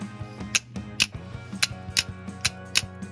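A Daiwa Certate SW 2024 spinning reel with a resin rotor has its bail flipped open and shut: a series of sharp mechanical clicks and snaps, close and distinct, about eight crisp strikes over a light ratcheting background.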